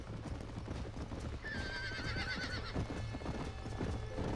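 In the Red Dead Redemption video game, a horse gives a shrill whinny midway while hooves clip-clop steadily throughout, the neigh clear and prominent over the rhythmic hoofbeats.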